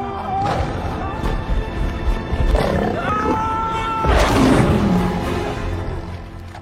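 A lion gives a loud, deep roar in a few heavy bursts over several seconds, close and dominant, with some thudding underneath.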